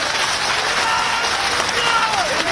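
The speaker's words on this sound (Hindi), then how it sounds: "ऐसी तालियां बजनी चाहिए पिपराई" A crowd at a political rally applauding in a dense, continuous wash of clapping with some crowd noise, loud and close, with a faint voice under it.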